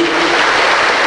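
Audience applause at a formal debate, a dense steady wash of many hands clapping at full volume throughout the brief moment.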